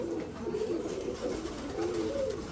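A large-headed breeding pair of pigeons at a pigeon sale gives repeated low, rolling coos, close and steady across the whole stretch.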